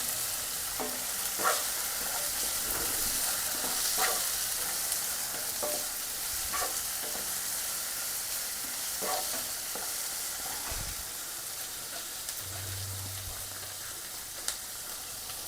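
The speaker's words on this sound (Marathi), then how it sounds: "आता टोमॅटो घालते. मी अर्धा टोमॅटो घेतला इथे. थोडीशी कोथिंबीर पण." Half a tomato and a little coriander sizzling steadily in a hot pan, with occasional light stirring scrapes over a constant frying hiss, close up and no voices.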